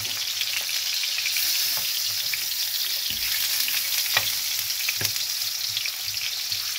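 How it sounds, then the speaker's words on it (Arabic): Sliced onion rings fry in the same oil used earlier for eggplant, giving a steady, moderately quiet sizzle throughout with occasional crackles and pops. "جبت بصله قطعتها طرنشات كده، وهبتدي بقى ايه احمرها كده برضو في نفس الزيت"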